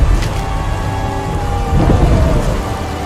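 A thunderstorm sound effect of heavy, steady rain pouring on surfaces under low rolling rumbles of thunder, loud and continuous with no voices.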